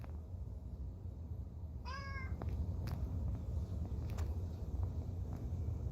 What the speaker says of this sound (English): Anybody want a broken cat?